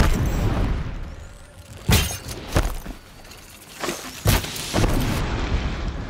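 Booming blasts from a blaze canister bursting in Horizon Zero Dawn, several loud explosive hits with shattering crackle spaced over a few seconds, with no talk.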